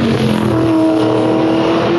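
V8 Supercar race car at the Abu Dhabi circuit, its engine roaring loudly and steadily at high revs with a sustained, rising mechanical drone.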